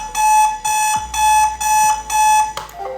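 An HMI fan speed controller sounds a warning alarm in steady pulsed beeps, about four bright electronic bursts with short gaps, loud and close, ending with a faint click.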